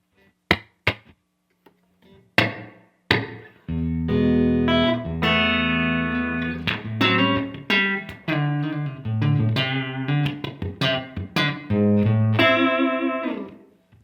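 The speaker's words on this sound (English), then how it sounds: "We should now override this with a room level, which will sound again like a bit of reverb." An electric guitar plays a few picked notes, then sustained chords and melody ringing out with a roomy reverb tail from a Strymon Iridium room setting.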